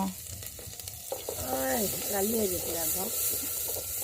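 Food sizzles in soybean oil in a village kitchen, a steady hissing fry running under a person talking close by.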